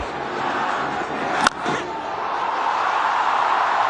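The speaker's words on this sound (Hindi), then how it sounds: "बल्ला उठेगा, तालियां बजेंगी, स्टैंड्स में फैंस सम्मान देंगे एक ऐसे अर्धशतक का जो प्रेशर में आया है" A stadium crowd in Colombo during an India vs Pakistan T20 match roars steadily for Ishan Kishan's fifty. The dense, continuous crowd noise is broken by one sharp crack, with commentary faintly underneath.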